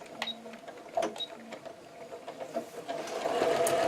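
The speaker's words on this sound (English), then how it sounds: "you're going to start at one of the corners and you're going to backstitch just to lock your stitch in" A sewing machine with a walking foot backstitches at the corner of a fabric placemat, giving short rhythmic bursts of stitching that settle into a steadier mechanical whir, close and clear.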